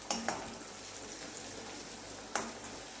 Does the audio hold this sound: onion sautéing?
yes